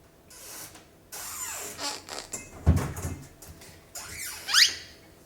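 A pet parrot imitates a squeaking kitchen cabinet door, giving a few rising and falling squeaky whistles at close range, the sharpest one near the end, amid faint room noise.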